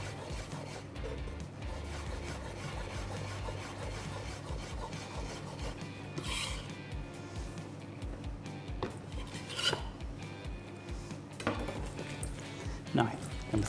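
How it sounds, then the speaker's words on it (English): A kitchen knife finely shreds a tightly rolled bunch of fresh coriander on a board for a cashew nut salad, giving a continuous run of close, soft rasping cuts with a few sharper knocks near the end. "I'm going to roll this up into a tight little ball. And we're going to shred this as fine as we possibly can"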